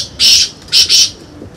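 Loud, close squawks from pigeons kept for flying, three bursts in quick succession, the last two nearly joined.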